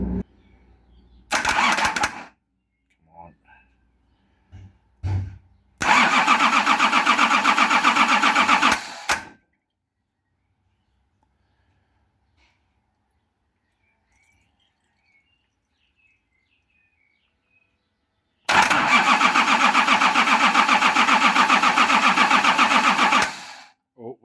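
A Nissan LD28 diesel engine that has sat unused for years cranks over in three loud bursts: a short one, then a longer three-second spell, and after a long quiet gap a final five-second crank, with faint clicks between.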